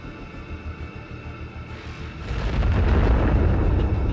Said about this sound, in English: If the enemy doesn't respond to a call to surrender, grenades are thrown into the trench.